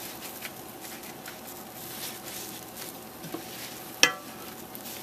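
Tortillas fry in a pan for a chilaquiles verde dish, giving a soft continuous sizzle with light stirring and patter, plus one sharp utensil clack near the end.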